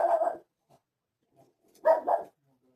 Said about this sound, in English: Sorry about my dog. He hears voices outside and he makes that his business.